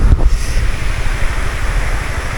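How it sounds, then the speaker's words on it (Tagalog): Water rushes and splashes at a nature spring on a farm with waterfalls in San Jorge, Samar, a steady, close, broadband roar that carries on with no talking. "Island Nature Spring guys. Big oh. Running water."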